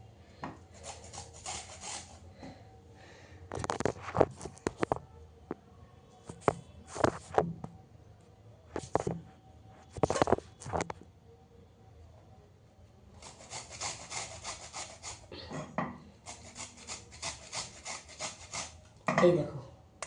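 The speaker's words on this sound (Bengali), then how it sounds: "গাজরটা যে ঘষে নিচ্ছি" A carrot rasped against a kitchen grater in short bursts of scraping strokes, separated by brief pauses, fairly close and with no speech.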